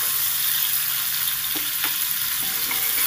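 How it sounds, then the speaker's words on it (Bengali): Jackfruit pieces frying in oil in a wok make a continuous loud sizzle, with a few soft stirring knocks near the end and no voices. "ভাজাটা হয়ে গেছে, এর থেকে বেশি আর ভাজবো না।"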